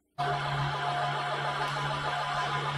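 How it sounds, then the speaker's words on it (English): A Hoover vacuum cleaner switches on abruptly and then runs at a steady, loud whirring drone with a constant motor hum, close by and alone without talk. "Sorry about that noise, that's the Hoover."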